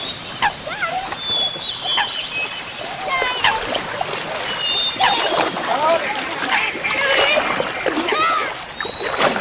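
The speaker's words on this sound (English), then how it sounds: "kayaking down the River Dee, North Wales" Kayaks move down the River Dee in North Wales with repeated splashes of paddles and flowing water. Children chatter and call out over the watery sounds throughout.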